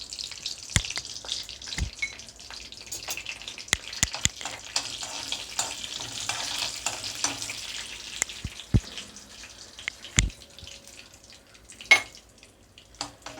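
Cinnamon and cloves frying lightly in a pan for Tamil Nadu style mutton kheema vadai, a soft steady sizzle with scattered crackles and sharp pops running throughout, close and moderately quiet with no talking.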